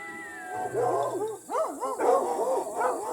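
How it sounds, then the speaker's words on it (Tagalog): Several dogs barking and howling near a riverside village at night, overlapping yelps and bays in rapid, uneven bursts, close and loud, with a faint voice underneath. "Kuya, kaninong aso ba yan? Ang ingay eh."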